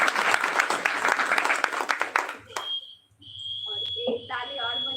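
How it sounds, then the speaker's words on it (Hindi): An audience at a seminar session claps loudly for a couple of seconds, then the applause breaks off and a sustained electronic tone rings out while someone speaks. "उनके लिए ताली बजाओ जो आपको लेकर आए"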